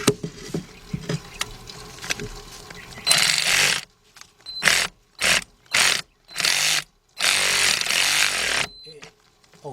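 A power tool runs in repeated short bursts, whirring and rattling as it tightens a bolt on a Ford Focus or Transit Connect power steering pump, with ratchet clicks and workshop noise between the bursts and no speech.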